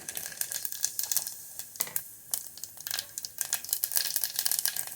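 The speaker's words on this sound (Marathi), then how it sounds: "जिरे आणि राई तडतडली की त्यामध्ये लसूण टाकायचं" Mustard and cumin seeds crackle and pop in hot oil for a dal tempering, a close, irregular burst of sharp snaps and spits that grows busier toward the end, with no voices.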